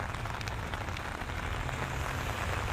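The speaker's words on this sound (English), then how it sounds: "I know that it's raining, it's miserable" Rain falls steadily onto outdoor surfaces, producing a dense, even hiss with soft patters throughout, heard alone without any voices.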